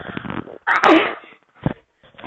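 A single loud sneeze close to the microphone, preceded by a brief sharp breath and followed by a short quieter exhale.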